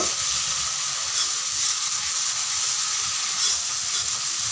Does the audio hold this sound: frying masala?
yes